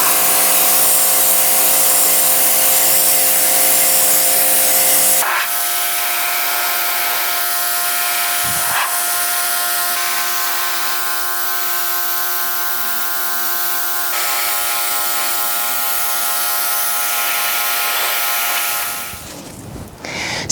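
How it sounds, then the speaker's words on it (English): A pressure washer cleans a dirty wooden fence, giving a loud, steady spray hiss over a droning motor whine that runs almost continuously before cutting off near the end. "So we have to pressure wash this whole thing in order for this paint to stick."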